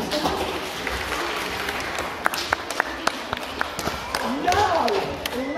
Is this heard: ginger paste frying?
no